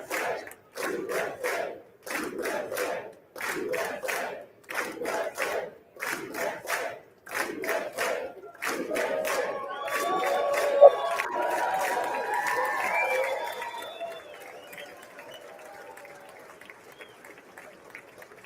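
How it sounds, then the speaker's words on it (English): An audience claps at Trump's address on Capitol Hill. Rhythmic bursts of crowd clapping and cheering give way to a sustained wash of applause, which then fades. "Oh, this is going to be a lot of clapping."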